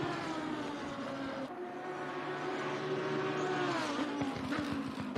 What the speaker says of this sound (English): sets the car up for the right and the left, and ready now to accelerate up towards the timing line